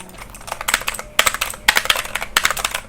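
Rapid typing on a Logitech G213 membrane keyboard in quick bursts with short pauses between, the key presses soft and muffled rather than clicky, close and clear.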